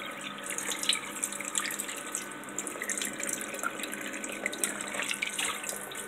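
Water runs steadily from a bathroom tap in Rome, a continuous close splashing hiss into the sink that lasts throughout with no talking.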